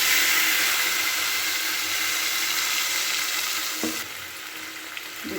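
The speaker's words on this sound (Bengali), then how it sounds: "তেলের মধ্যে দিয়ে দিচ্ছি কালো জিরে ফোড়ন। এবার মিক্সিতে বেটে রাখা মশলাটাকে আমি এর মধ্যে দিয়ে দিলাম।" Nigella seeds and a ground spice paste fry in hot oil for a rohu fish curry, making a loud dense sizzle that softens near the end with a couple of faint knocks, and no one speaks.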